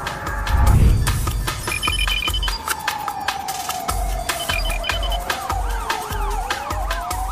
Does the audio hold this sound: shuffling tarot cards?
no